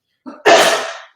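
A single sneeze in a podcast studio, opening with a short, quick intake of breath and then a loud, close burst that trails off over about half a second.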